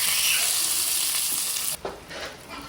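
Sliced onions sauté in a pan for a pounded sambol: a loud, bright sizzle fills the first part, then drops abruptly to a softer crackle with a few stirring scrapes.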